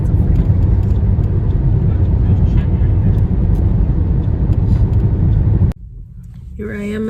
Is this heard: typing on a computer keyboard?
no